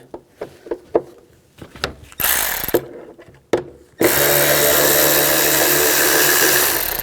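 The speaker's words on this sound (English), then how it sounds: "Around the outside perimeter of the airbox, there will be screws. Take those out, use a T25." Screws being removed from the airbox cover of a 2007-16 GMC Acadia with a T25 driver: a series of short clicks and knocks, then bursts of sustained loud power-driver whirring.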